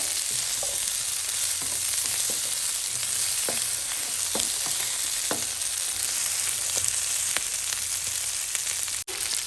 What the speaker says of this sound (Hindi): इस मसाले के साथ अच्छे से इसको 1 मिनट के लिए हम फ्राई करेंगे, ताकि जो हमारे चिकन का टेस्ट है, मसाले हैं, वो प्याज और हरी मिर्च के साथ भुन जाए।